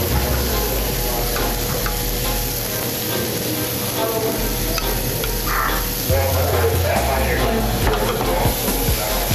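Scallions and broccoli sautéed in a pan make a loud, continuous sizzle with stirring noises and a low rumbling hum underneath throughout.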